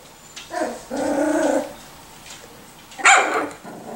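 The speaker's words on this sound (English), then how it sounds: "I love the little barks." Miniature Schnauzer puppies, a few weeks old, yip and bark in small high bursts at close range, with whiny growly tones between the barks.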